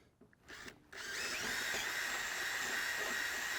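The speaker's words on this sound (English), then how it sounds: "let's go ahead and finish drilling that out" A power drill bores holes in a boat jackplate for a transducer mount: a few short whirring bursts, then one sustained, steady high whine close by, with no talking.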